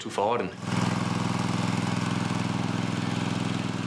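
An Aebi hydraulic-drive motor mower's engine drones steadily and loudly at close range after a brief voice and a sharp rise at the start.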